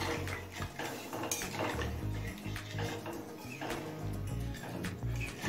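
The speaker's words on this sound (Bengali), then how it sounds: "জলটা দিয়ে সব কিছুর সাথে নেড়ে মিশিয়ে নিলাম।" Hot water poured into cooking masala for a paneer dalna and stirred in a pan, with clinking metal spoon-on-pan strokes and a low bubbling rumble, no talking.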